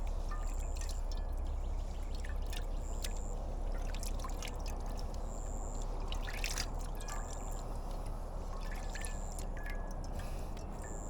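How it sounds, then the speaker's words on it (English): Fungicide poured by hand onto a rotted banana corm, a soft steady trickle and dribble of liquid with scattered drips, close and continuous without talk. "So I'm just going to go ahead and pour it on"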